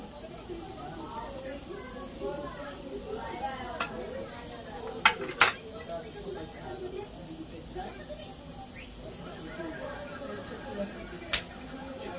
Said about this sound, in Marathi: आता आपण ह्याच्यात मोहरी टाकू, थोडीशी जिरी टाकू